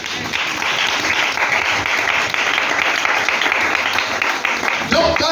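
A church congregation claps in sustained, dense applause, loud and continuous throughout, with voices calling out within the clapping.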